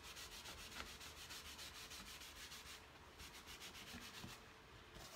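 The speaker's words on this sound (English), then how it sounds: "I'm going to do this sanding" Rhythmic back-and-forth scratching of sandpaper by hand on a wooden headboard, close and steady, with a brief pause partway through before the strokes resume.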